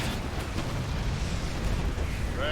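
Siege tank artillery in StarCraft II: a continuous loud roar of blasts and rumbling explosions with no clear pauses, dense and close.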